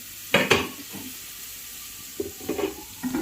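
Onions fry in oil for birista with a soft, low sizzle underneath. Stirring strokes come in a few separate bursts, a pair early on and a short cluster near the end.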